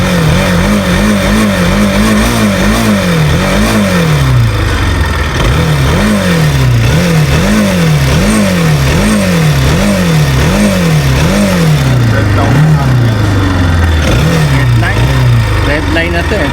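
A motorcycle engine revs repeatedly up toward its redline of about 9,000 rpm, a loud, close series of rising and falling wails that continues for the whole stretch.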